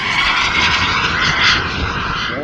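A radio-controlled scale model airplane flies a figure 8 at a scale flying competition, its engine giving a steady loud drone that swells slightly and then eases as it passes.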